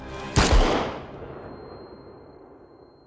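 A single loud gunshot from a TV series cracks sharply, then fades away in a long, decaying echo with no speech over it.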